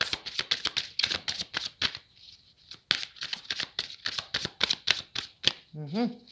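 Tarot cards are shuffled in a quick run of crisp riffling bursts, with short pauses between them, followed by a brief spoken voice at the end.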